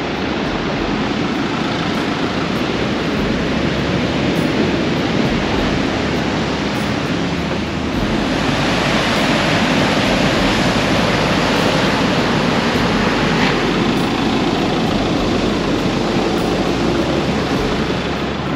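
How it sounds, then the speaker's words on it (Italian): A constant loud roar of rough sea and strong wind on the Andalusian coast, heard as unbroken broadband rushing noise with no talk, only slight swells in intensity. "Guardate che mare che c'è oggi."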